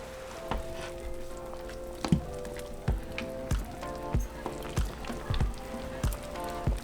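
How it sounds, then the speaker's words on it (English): Carnitas pork shifted around in a hot pan on a stovetop, giving a steady sizzle with repeated sharp scraping and clacking knocks from the stirring, close and fairly quiet, with no talking. "I'm going to move my meat around so that it don't get burned or stick to my pan."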